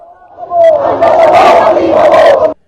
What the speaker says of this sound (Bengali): এ সময় ভারত বিরোধী স্লোগান দিতে দেখা যায়।